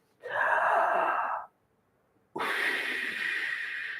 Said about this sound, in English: Taking some deep breaths.